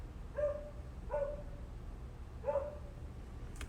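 A dog gives three short, separate barks or yips at a moderate distance, evenly spaced over a few seconds against a quiet indoor background.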